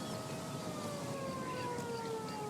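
An ambulance siren in the L.A. Noire video game: a steady, fairly faint wailing tone that glides slowly downward, heard alone from some distance without voices.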